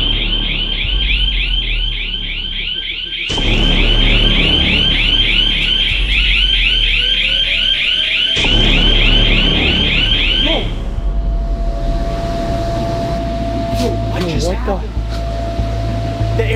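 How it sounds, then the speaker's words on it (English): A very loud electronic alarm blares inside an indoor trampoline park at night, a steady pulsing siren tone that cuts off and restarts twice before giving way to fan hum and background noise. "an alarm started playing so loud under here"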